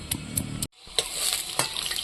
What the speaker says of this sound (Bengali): এখন আমি আলুগুলো ভেজে নেব মাছ ভাজার তেলে